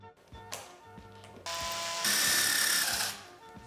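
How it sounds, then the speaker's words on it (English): A power drill bores holes into a workbench for mounting L-towers of a LAMA BASE infrared wax system, with a whining motor that rises into a louder, harsher grinding burst for about a second before stopping. "Now that your holes are drilled"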